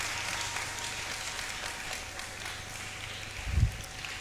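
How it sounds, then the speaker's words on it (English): At a campaign launch event in Ghana, an audience gives a steady round of applause, moderately faint and somewhat distant, with a brief low thump near the end. "So a round of applause for them."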